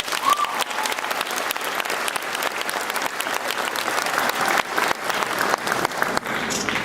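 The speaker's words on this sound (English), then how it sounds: "One more round of applause." A high school graduation crowd gives one more round of applause, a loud, dense wash of clapping that carries on evenly with no talk over it.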